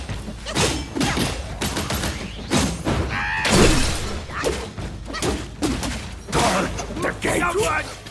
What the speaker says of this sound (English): Oh, that's right, they explode.